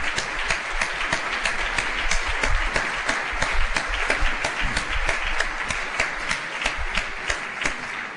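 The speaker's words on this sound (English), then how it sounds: "I ask you to stand to receive our applause of recognition and thanks" Audience applause of recognition and thanks for an honored scholar at a lecture, steady and sustained with distinct individual claps standing out from the crowd throughout.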